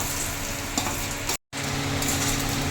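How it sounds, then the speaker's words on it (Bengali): Chopped coconut frying in hot oil in a kadai, a steady close sizzle and crackle with light stirring, broken by a brief silent gap midway. "এখন নারকেল কুচিটা ভেজে নেব।"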